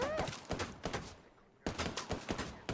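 Enemy gunfire in a shooter video game, several sharp bursts of shots in quick succession, a short lull, then more rapid volleys, fairly loud and close.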